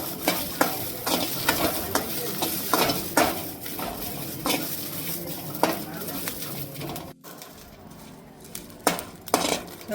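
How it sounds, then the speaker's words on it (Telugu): Green chillies dry-frying in a pan until their moisture cooks off, for a sesame chutney: a continuous close sizzle broken by frequent spatula scrapes and metallic clinks against the pan, with a brief pause before the stirring resumes. "ఇప్పుడు ఈ తడి పోయేంత వరకు కొంచెంసేపు ఫ్రై చేసుకుందాం."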